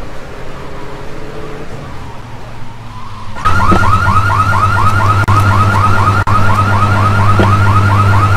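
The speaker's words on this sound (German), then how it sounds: "diese Alarmanlage, Mann? Hör mal, wie laut!" A car alarm in the video game GTA 3 starts abruptly after a few seconds of low rumble, then blares loudly and steadily with a fast, repeating warbling whoop.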